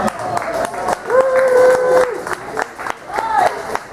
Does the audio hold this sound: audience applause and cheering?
yes